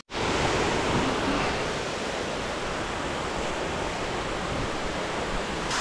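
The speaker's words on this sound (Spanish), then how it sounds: "Miren qué bonita se ve la cascada desde este punto de vista" A waterfall's constant broadband roar, dense and steady from the first moment, close and loud with no voices over it, at Salto Curet in Maricao, Puerto Rico.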